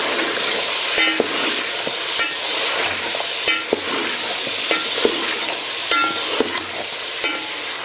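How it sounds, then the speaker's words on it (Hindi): Mutton sizzles in a pan with garlic and onion for nehari, a continuous hiss broken by scattered clinks and scrapes of a spoon stirring the meat. "हमारा गोश्त बड़ा अच्छे से फ्राई हो रहा है।"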